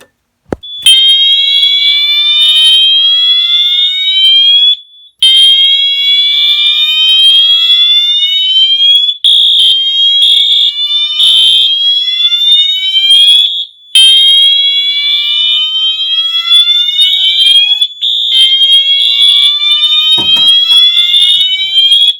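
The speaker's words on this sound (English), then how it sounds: "I'm going to show you fire alarms going off" Loud electronic fire alarms sounding together, a continuous rising warble repeating in long cycles with brief gaps between them.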